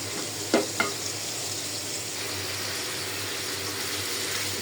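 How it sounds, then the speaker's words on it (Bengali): Dried fish with spices and garlic paste frying in a pan, a continuous close sizzle with a couple of brief stirring knocks near the start. "এখন আমি মশলা আর শুটকি ভালো করে কষায়"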